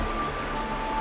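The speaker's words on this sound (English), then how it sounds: "This is the sound of rain." Steady rain hiss in the video game Honkai: Star Rail, dense and even throughout, with a faint thin tone running underneath; no voices.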